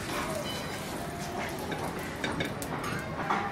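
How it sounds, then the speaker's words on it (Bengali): Bread slices fry in melted butter in a frying pan, giving a steady soft sizzle with occasional light clinks of a utensil, all under someone talking. "এখন আমি এখানে আরেকটু বাটার দিয়ে ওই পাশটা ভেজে নিব।"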